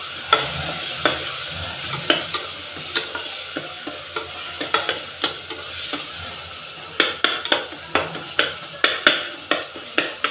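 Tomatoes sautéing in a hot pan with curry leaves, a constant sizzle broken by a quickening series of sharp spatula scrapes and taps against the pan, close and loud.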